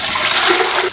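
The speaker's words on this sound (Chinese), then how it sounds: "然后这边准备一个高压锅，葱姜加水" Water runs steadily into a pressure cooker holding scallions and ginger, a continuous broadband splashing pour at close range, with no talk over it.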